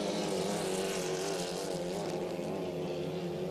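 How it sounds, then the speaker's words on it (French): A 2.5L racing hydroplane boat engine roars loud and steady at full throttle down a straight during a race heat, a constant droning wall of engine noise with no break. "Le moteur d'Alan Bush semble beaucoup plus puissant"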